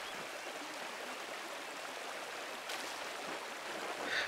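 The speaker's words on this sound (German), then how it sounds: "Das ist der Wasserfall, den Watzlaw gerade erwähnt hat." A waterfall stream in the video game Pentiment makes a steady, broad rushing hiss of falling water, constant and fairly faint throughout.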